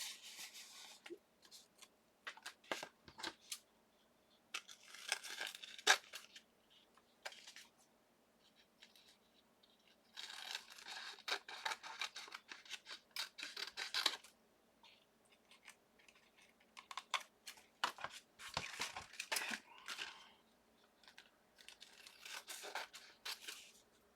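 Scissors snip and trim a napkin-covered washi tape craft piece in a quiet room, with irregular bursts of close, crisp cutting and paper rustle separated by short pauses.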